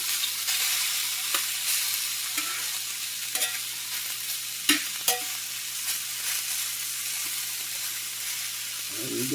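Velveted chicken sears in a hot pan with a steady broadband sizzle, punctuated by a few sharp clicks and scrapes, heard alone without talk.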